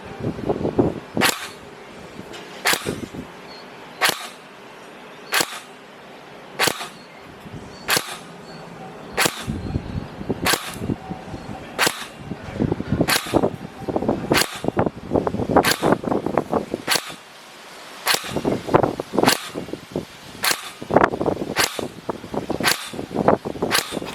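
A Tokyo Marui HK416 Delta NGRS electric airsoft gun fires 0.20 g BBs on its stock battery, about twenty sharp single shots spaced one to two seconds apart, each loud and close with a quick mechanical snap.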